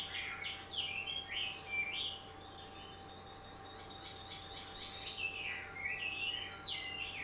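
Birdsong from a YouTube video playing on a tablet: repeated bright chirps and warbling phrases, fairly quiet, over a steady low hum and no talking.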